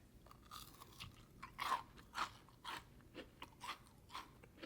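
Someone bites into a crunchy diamond-shaped strawberry kiwi candy stick, giving a series of about eight sharp, close crunches spaced roughly half a second apart, with chewing between bites and no talking.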